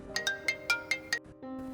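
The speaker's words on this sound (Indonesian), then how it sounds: "Frankie sedang berada di rumah saat menerima telepon dari Trevor" A phone ringtone in a film plays as a rapid series of bright electronic chimes over a steady tone, followed by a lower sustained note, moderately loud with no talking.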